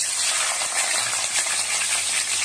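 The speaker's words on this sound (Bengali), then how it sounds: "তেলটা গরম হয়ে গেছে, এবার একটা একটা করে সবজি দিয়ে দেবো। দেখো প্রথমেই দেবো গাজর।" Carrots frying in hot oil give a loud, steady broadband sizzle, continuous and close with faint stirring clicks underneath.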